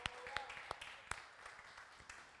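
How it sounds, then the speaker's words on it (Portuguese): Scattered handclaps at a live Sunday church service, faint and distant, with a handful of separate claps spread irregularly over a couple of seconds rather than sustained applause. "Vamos aplaudir Jesus"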